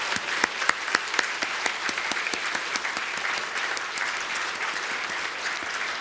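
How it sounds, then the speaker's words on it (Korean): A church congregation at a Sunday service claps to welcome new members, producing steady, dense applause from many hands, close and loud and evenly sustained throughout, with no voices standing out. "인사할 때 여러분 박수로 환영합시다"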